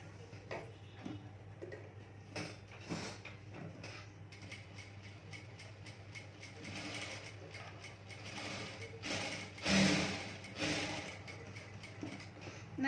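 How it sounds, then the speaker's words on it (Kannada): A sewing machine double-stitches a blouse seam, running as a continuous mechanical whirr with a low steady hum and rapid ticking clatter of the needle mechanism, slightly louder and busier toward the end. "ಇದನ್ನ ಹೀಗೆ ತಿರುಗಿಸ್ಕೊಂಡು ಇಲ್ಲಿ ಡಬಲ್ ಸ್ಟಿಚಿಂಗ್ ಹಾಕೋತಾ ಇದ್ದೀನಿ"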